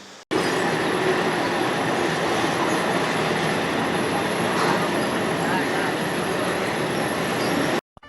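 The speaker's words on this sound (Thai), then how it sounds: "เดี๋ยวเราดูบรรยากาศในสถานีรถไฟสักครู่หนึ่ง" Steady rumbling of a train running on tracks fills a Thai railway station, loud and continuous, with a faint high whine above the rolling clatter.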